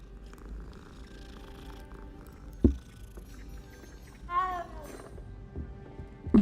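A cat purrs softly while being petted in the Hogwarts Legacy video game, a steady low rumble with a couple of knocks and a rising meow-like call partway through, under light background game sound and a voice.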